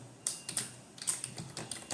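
Keys clatter on a computer keyboard as code is typed into Notepad for a Python lesson, several quick uneven bursts of clicks close up with no talking.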